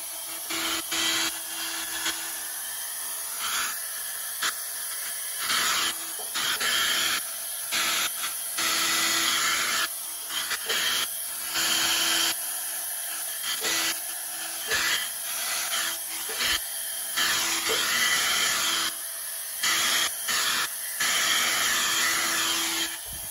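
A heat tool fan blows steadily onto a large acrylic paint bloom, a broad whooshing roar running close and loud throughout, with its airflow faltering briefly now and then.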